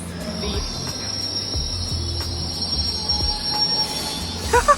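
London Underground train wheels squeal in a high, sustained screech over a low rumble of the moving carriage, steady throughout.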